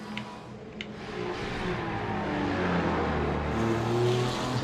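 A Ferrari race car at Bathurst in a racing game, its engine note swelling steadily louder and droning near and continuous, with no talk over it.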